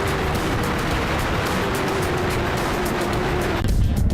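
Historic race cars, Daytonas and Mustangs, racing at Phakisa on a drying track after rain, a loud, continuous roar of engines close by with a sudden shift near the end as one passes.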